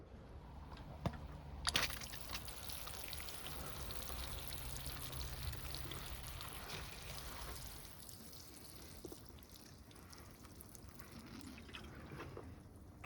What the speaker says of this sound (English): I'm going to just rinse it off a little bit, get the soil wet